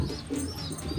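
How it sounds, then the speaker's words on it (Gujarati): Pigeons coo softly in a Rajkot coop, low throaty murmurs mixed with faint chirps and a hint of wing movement, quiet and close, with no talking. "આ આપણા બધા કબૂતર ખુલ્લા છે"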